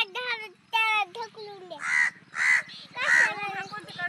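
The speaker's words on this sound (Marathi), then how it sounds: "एक तर कावळा काव करतोय." Outdoors during fig picking, a crow gives three or four loud, harsh caws spaced about half a second apart, following an earlier stretch of chatter-like calling, with a low steady background hum.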